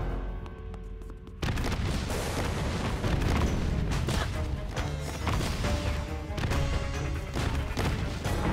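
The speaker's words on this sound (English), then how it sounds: "explosions coming from their child's bedroom" Explosions in The Plucky Squire, a storybook video game set in a child's bedroom. A quiet stretch gives way to a dense, loud barrage of booms, crashes and impacts that goes on without pause.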